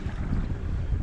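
A sailboat heads north offshore on a spring morning, with steady low wind rumble buffeting the microphone and a faint wash of water beneath it.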